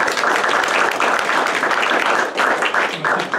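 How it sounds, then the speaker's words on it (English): A church congregation gives a Sunday-morning guest warm applause, loud and dense with many overlapping claps, easing off slightly toward the end. "I would appreciate you warmly applaud him,"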